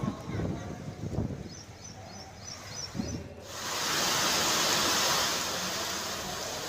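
Heavy monsoon downpour in a village near Babra in Amreli, Gujarat, first as a muffled hiss under a voice, then swelling into a loud, steady roar of rain.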